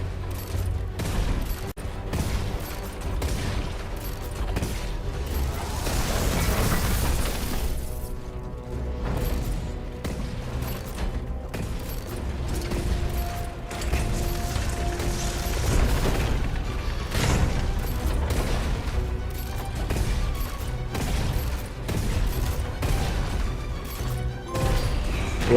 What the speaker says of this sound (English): les grenades explosives